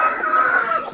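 Caged chickens at a poultry farm, including fighting cocks, give a loud, drawn-out close call from a single bird that lasts about a second.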